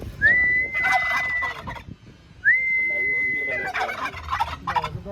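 A peacock at a zoo gives two loud, drawn-out wailing calls about two seconds apart, with bursts of crowd noise and bird chatter around them.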